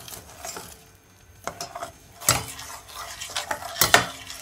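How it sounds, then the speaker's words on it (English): Caramel sauce being stirred as it melts in a pan while making homemade caramel for a frappuccino, with intermittent scraping clinks of a utensil against the pan, a few sharper knocks near the end, and no talking. "We just want to continue to stir it so it doesn't stick."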